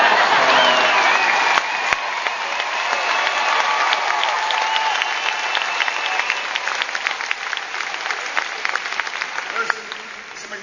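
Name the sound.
crowd cheering and applauding at Obama rally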